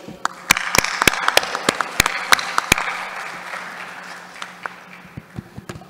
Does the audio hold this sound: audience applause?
yes